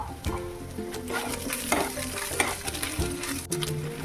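A fish chop filling fries in a pan over a low-to-medium gas flame while a spatula stirs and scrapes through it, giving a loud continuous sizzle with repeated scraping strokes and a faint tonal hum behind.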